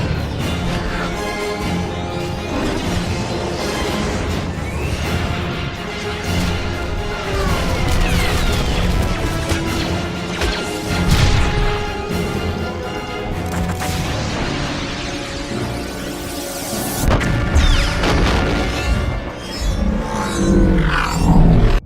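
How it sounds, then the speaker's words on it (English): A battle scene in the Star Wars Clone Wars setting over the capital of Mandalore, with loud, dense blaster fire, booming explosions and crashes piling up continuously, and a rumbling roar under it all. "Blaster fire rains down from above as Mandalorian fighters streak across the sky of the capital of Mandalore. The dome shudders with each explosion."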